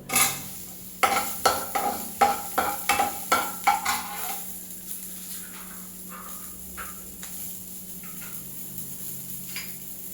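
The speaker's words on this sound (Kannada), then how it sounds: "ಸ್ವಲ್ಪ ಒಂದು ಬೆಳ್ಳುಳ್ಳಿ ಹಾಕೊಂತ ಇದ್ದೀನಿ. ಇದೆಲ್ಲ ಸ್ವಲ್ಪ ಫ್ರೈ ಆಗಲಿ" Garlic frying in a pan with cumin seeds, with a run of sharp metallic stirring knocks and clinks over a steady low sizzle, then quieter scattered stirring while the sizzle carries on alone.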